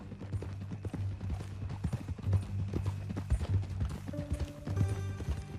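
Horse hooves clip-clop in a steady walking rhythm in Red Dead Redemption 2, close and fairly quiet, with faint creaks of tack and soft background tones and no talk.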